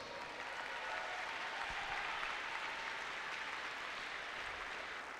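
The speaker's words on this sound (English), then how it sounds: "give a big round of applause to the national champion, Kyle Douglas." Steady round of applause from an audience at an indoor national archery championship shoot-off, honoring the professional freestyle men's national champion; dense, even clapping sustained throughout, moderately distant with no talk over it.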